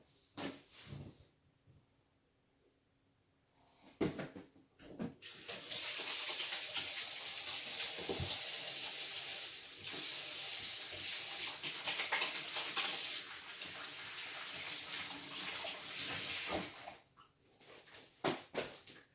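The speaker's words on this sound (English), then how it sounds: "So hands washed. Actually, let me do that one again." A kitchen sink tap runs while hands are washed, a soft broadband rush of water that starts after a few quiet seconds of scattered knocks and continues steadily before stopping near the end, no talking.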